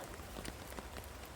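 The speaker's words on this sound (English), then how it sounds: "So it's raining right now. You can probably hear it on the tarp" Steady rain patters on a camping tarp in a wild woodland camp under a thick canopy, a dense, even hiss of close drops with no talking.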